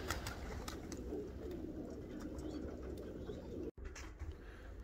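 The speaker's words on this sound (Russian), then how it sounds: "вот все голубей загнал" Domestic pigeons coo softly and repeatedly in a quiet loft, a low, gentle murmur with faint rustling around it.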